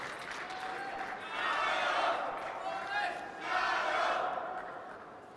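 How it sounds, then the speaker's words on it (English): Chinese fans in the stands at a 2017 badminton men's doubles final, cheering in two loud, swelling roars about two seconds apart. The cheers come alone, with no talk. "So the Chinese fans, I believe, cheering on the Shangang run"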